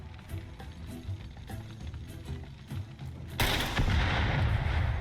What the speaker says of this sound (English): If I shoot this thing.